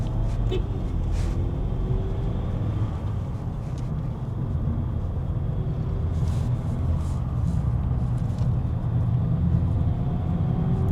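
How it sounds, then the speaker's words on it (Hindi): Skoda Slavia Monte Carlo sedan climbing an uphill road, a steady low engine and road rumble heard from inside the cabin, continuous and moderately loud throughout. "अब देखो ये चढ़ाई में क्या मज़ा आ रहा है इस गाड़ी के साथ।"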